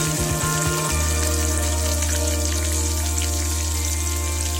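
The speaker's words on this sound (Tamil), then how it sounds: "அது கொஞ்சம் நல்லா வறுத்த அப்புறமா பெருங்காயத்தூள் கொஞ்சம் தேவையான அளவுக்கு போட்டுக்கோங்க" Curry leaves and asafoetida frying in hot oil for a pongal tempering, a steady dense crackle and sizzle running throughout, close and fairly loud over a constant low hum.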